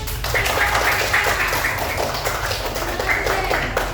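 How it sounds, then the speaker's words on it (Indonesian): A classroom of students applauds a presenting group with loud, dense, sustained clapping from many hands close by, mixed with chatter and a few raised voices. "Oke, tepuk tangan."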